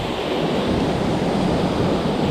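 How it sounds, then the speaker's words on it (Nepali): Water rushing loudly and continuously at Baspani waterfall in Nepal, a thick roaring wash heard close up with no pauses. "यो हो झरना चाहिँ कस्तो छ केटाहरू कमेन्ट गर है"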